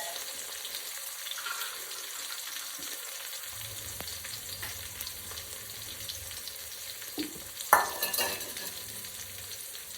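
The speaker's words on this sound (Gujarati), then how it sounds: "હવે થોડા આપણે અંદર લીમડાના પત્તા એડ કરીશું. બરોબર શેકાવા દઈશું." Curry leaves fry in hot oil for khichdi with a soft steady sizzle, then a utensil stirs and scrapes in the pot, close and fairly quiet, no talking.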